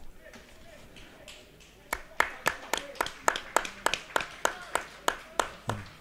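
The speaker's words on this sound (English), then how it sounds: "a smattering of applause for Gal as he makes his long awaited comeback for Stranraer" Sparse clapping from a very small crowd at a Stranraer football match as a substitute returns to the pitch. A few hands clap steadily in quick, evenly spaced bursts, moderately distant, over a low background murmur.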